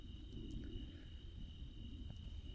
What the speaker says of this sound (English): Hear nothing but the crickets and the grasshoppers.